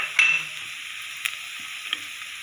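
Coconut, raisins, walnuts and almonds roasting for mukhaddi halwa in a pan over medium heat, with a soft steady sizzle and a few light scrapes and clinks of a stirring spoon.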